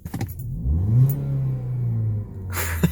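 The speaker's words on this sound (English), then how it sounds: "cut on your car" Ford Focus SE engine cranks and fires, rising to a brief rev then settling into a steady idle, heard close inside the car, with a rustling clatter near the end.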